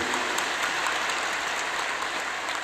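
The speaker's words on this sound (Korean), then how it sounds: "우리 성가대 사랑스러워요. 박수 한번 더 해주세요" A church congregation at a workplace-mission fasting revival service applauds the choir, producing a dense, loud, steady wash of clapping from many hands that fills the room without pause.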